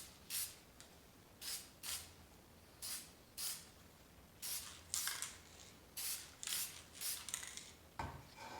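Bursts of lacquer sprayed from a can onto a cherry wood coffee scoop, about a dozen short hissing blasts in an irregular rhythm, close and fairly loud, with no talking.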